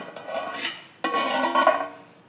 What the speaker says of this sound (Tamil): மூடி போட்டு மூடி 20 நிமிஷம் அப்படியே இருக்கட்டும்.